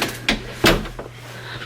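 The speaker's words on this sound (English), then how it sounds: "Let's close these doors." Household doors being shut, two or three short, sharp thuds and bumps in quick succession, close by, with no talking.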